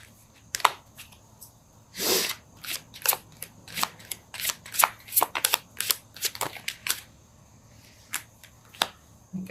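Tarot cards are shuffled and riffled in quick, irregular bursts of crisp flicks and snaps, close up, with a few louder shuffles scattered throughout.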